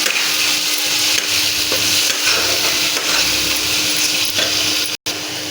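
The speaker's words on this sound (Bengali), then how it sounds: "ভালো করে নাড়াচাড়া করে নিলাম" A spoon stirs Kashmiri red chili powder through mutton curry with potatoes in a hot pan, a loud, continuous, close-up sizzle with scraping, briefly cutting out near the end; nobody speaks.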